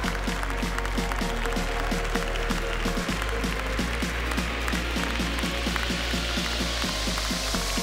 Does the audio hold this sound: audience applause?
yes